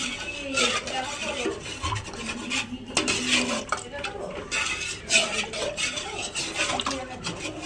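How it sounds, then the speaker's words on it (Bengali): A ladle scrapes and clinks against a metal pot while yogurt is slowly stirred into milk, a close, repetitive rasping and tapping rhythm with no talk. "এবার আস্তে আস্তে দইটা দুধের সাথে মিশাবো।"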